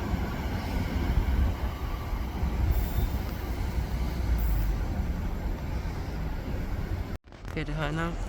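Great Western Railway passenger train pulling out of Newton Abbot station, a loud, steady rumble of wheels and rail noise lasting several seconds, broken by a brief cut near the end as a voice briefly talks.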